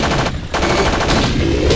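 Magnum pistol fire in the System Shock game against robots, loud dense shots with a brief dip partway through, continuing alone without talk.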